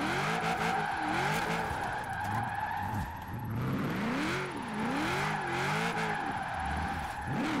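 Tires skid and scream as a car spins out in the Forza Horizon 4 racing game, with a loud engine whine that rises and falls in repeated swoops over a constant mechanical roar. No one talks.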